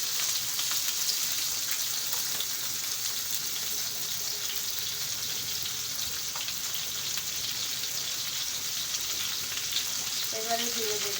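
Hilsa tail pieces and pumpkin fry in mustard oil, a dense, even sizzle like light rain that holds steady and close throughout, with a few faint clinks near the end and no voices.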